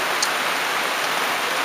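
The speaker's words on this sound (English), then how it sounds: "heavy showers this morning," Heavy morning rain shower in the Philippines, a dense, steady hiss of drops falling close by throughout, with no voices.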